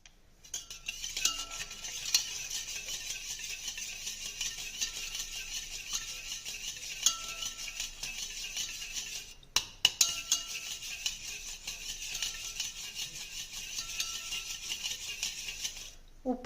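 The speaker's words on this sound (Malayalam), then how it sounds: "നമുക്കിതൊന്ന് നന്നായിട്ട് ഇളക്കി കൊടുക്കാം. നമുക്ക് നന്നായിട്ട് ഇളക്കി കൊടുക്കുന്നതിൻ്റെ സമയത്ത് കുറച്ച് ഉപ്പും കൂടി ഇട്ട് കൊടുക്കാം." A curry sizzles steadily in a pan while it is stirred and salted, a continuous close hiss with occasional light scrapes and clinks of the spoon.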